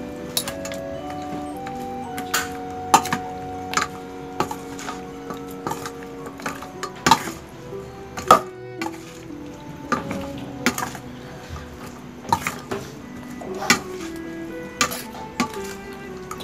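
Chicken feet pickle ingredients, including sliced lime and chilies, are mixed in a bowl, producing a long run of close, sharp clinks and knocks at a fairly regular, ticking pace.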